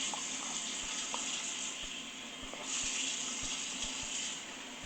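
Water runs steadily from a sink tap for hair washing, a constant close splashing hiss with faint drips and small knocks beneath it, no voices.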